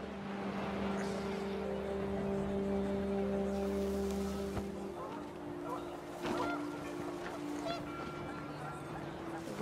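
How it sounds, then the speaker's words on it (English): Panicked geese honk in the video game What Remains of Edith Finch as the wind picks up, a cluster of overlapping nasal honks over a windy outdoor background that grows quieter as the birds leave. "The wind picked up, and panicked geese appeared and quickly went."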